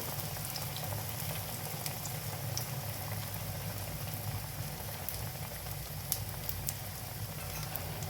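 Black-eyed pea fritters (bobbara garelu) fry in hot oil with a steady, dense sizzle and bubbling that stays even throughout, with occasional brighter crackles and pops rising over it.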